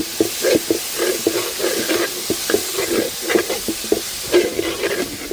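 Onion, tomato and ginger masala fries in a pan with a steady soft sizzle, as a spoon scrapes and stirs in irregular close strokes, with no voices.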